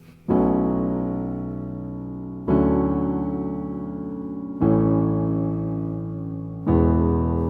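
Beginner-level piano chorus, four sustained chords struck one after another at a steady pace, each ringing out and slowly decaying before the next, close and clear with no voices.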